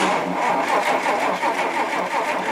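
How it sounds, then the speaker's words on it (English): A Rolls-Royce Silver Cloud engine cranks with a steady, loud churning drone that pulses evenly throughout, close up with no speech. "Why don't you crank it right now, and it should flash on."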